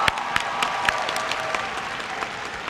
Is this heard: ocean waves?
no